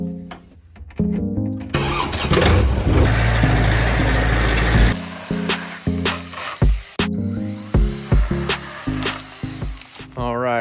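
A tractor engine cranking and catching, a loud burst of engine noise followed by uneven chugging and knocking as it settles, close by on a farm with a voice talking over it.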